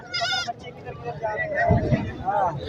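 Goats bleat at a crowded Karachi goat market, one close wavering bleat at the start and a shorter cry near the end, set against murmuring voices and market babble.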